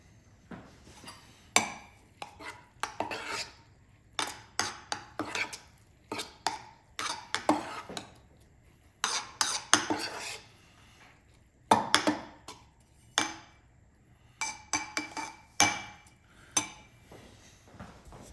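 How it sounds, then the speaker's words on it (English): Cooked bulgur wheat stew is stirred in a pot, giving a close series of irregular clinks and scrapes of a utensil against the pot, quiet between the knocks, with no talking. "And I'm gonna stir it."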